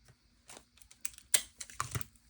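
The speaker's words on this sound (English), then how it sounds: "Rip off some tape." Sellotape is ripped off the roll in several short, quiet tearing bursts that come close together in a quiet room.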